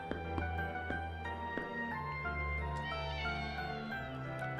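A small cat in a dapper top hat in the video game Exorcize Me gives a few soft meows over a gentle, sustained musical background.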